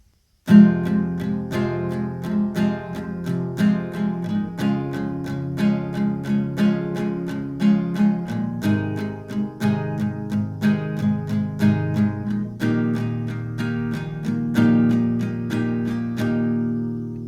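Steady acoustic guitar strumming of chords in a repeating rhythm, full and close, with no voices.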